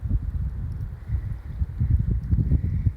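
Wind gusts buffet the microphone outdoors in the White Mountains during a bushwhacking backpacking trip, a low rumbling roar rising and falling in uneven pulses with no voices.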